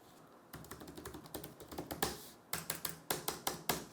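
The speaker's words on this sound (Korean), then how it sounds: "제가 한번 타이핑을 해볼까요?" Fingers type on the keyboard of an ASUS ProArt Studiobook Pro 17 laptop, with shallow, quick keystrokes clattering in an uneven, rapid rhythm and a short pause midway, close up and alone.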